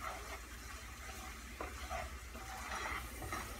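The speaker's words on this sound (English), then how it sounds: "And I'm just going to stir this up." Softened butter stirred in a pan for spaghetti squash with seafood, a quiet low sizzle with light scraping of the utensil, faint and steady, no voices.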